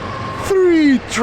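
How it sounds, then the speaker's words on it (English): A train horn blasts from a short distance at rush hour in rural Indiana, one sustained tone followed by the start of a second, over faint background rumble. "Three trains in a row. It's rush hour."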